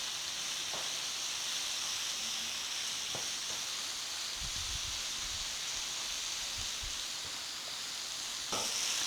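Spices and ingredients such as pepper, salt and turmeric stir-frying in a pan for nasi goreng, giving a constant even sizzling hiss with occasional faint clinks and low knocks, no talking.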